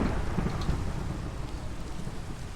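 Heavy rain pours steadily throughout a Minecraft thunderstorm, with close lightning strikes and rumbling thunder rising out of the continuous downpour and no voices.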